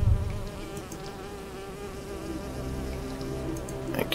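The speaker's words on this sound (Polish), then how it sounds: "Tutaj pszczoły bronią jakiegoś kwiatu." Bees buzzing around a flower in the hidden-object game Nightmares from the Deep 3: Davy Jones, a steady insect drone running the whole time over layered game music and ambience, with no talking.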